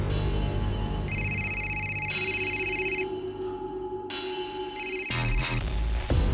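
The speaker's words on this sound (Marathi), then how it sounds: "कामाचा फोन आहे, मी बघ" A phone rings with an incoming work call, a repeating electronic ringtone in regular bursts of bright, bell-like tones about a second apart, loud and continuous.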